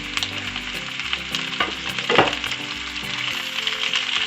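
Cabbage for Korean rice cakes being stirred and tossed in a hot pan, a steady sizzle with scraping utensil strokes, close and fairly loud, no voices.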